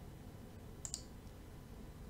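A computer mouse gives two quick, faint clicks in close succession, heard alone against a low steady hum while a user works in networking software.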